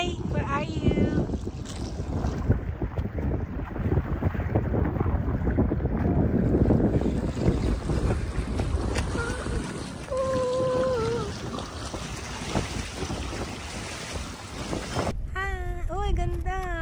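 Strong wind buffets the microphone continuously with roaring gusts, while people talk and shout intermittently over it.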